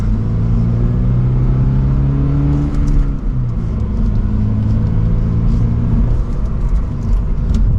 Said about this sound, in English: And from second gear, we'll give it a small acceleration.